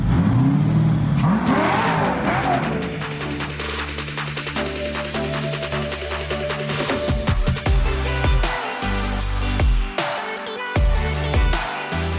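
A cammed car engine revs hard from the Goonzquad shop fleet, with a choppy, lumpy idle climbing into rising roars and repeated throttle blips that stay loud and close throughout, with no talk.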